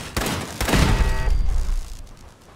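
Gunfire in Fallout 4, a dense burst of loud, close shots packed into the first second and a half before fading into a quieter tail.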